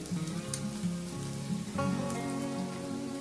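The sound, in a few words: fish roe frying with spices in a pan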